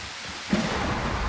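Thunder rolls across the sky in a video game, a dull rumble rising suddenly and then staying on as a steady wash like rain, fairly loud and with no voices.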